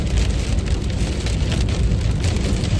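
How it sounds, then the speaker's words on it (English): Hail pelting down during a Nebraska supercell storm, a dense, steady loud patter drumming on surfaces and the road all around. "Still hailing out here."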